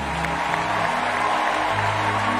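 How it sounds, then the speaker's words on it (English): A church congregation claps steadily through a sermon, a continuous even wash of applause mixed with crowd murmur and a sustained tonal background. "Keep clapping till I ask you to stop."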